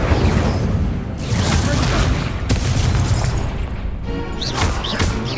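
Fire spell bursts cast in the Hogwarts Legacy video game, a dense continuous roar of whooshing blasts and crashing impacts with a few sharper hits, loud and close, layered over game music and effects.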